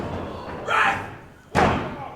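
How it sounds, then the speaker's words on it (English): A wrestler slammed onto the ring mat at a Guildford match, two heavy thuds about a second apart, the second sharper and louder, with crowd and voices faintly behind. "They heard the noise of that body slam."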